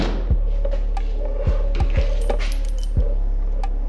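Metallic car keys clink and jangle in a few short bursts, close by, at the door of a GM G-body Cutlass, over a steady low engine hum.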